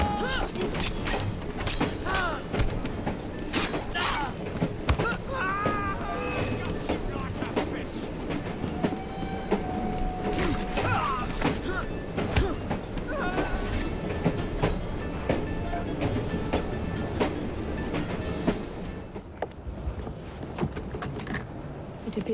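Steam train running in Assassin's Creed Syndicate in Victorian London, a loud, sustained rolling rumble with rhythmic clattering and metallic squeals, layered with game effects and brief voices over it.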